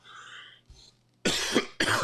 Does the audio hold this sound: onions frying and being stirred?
no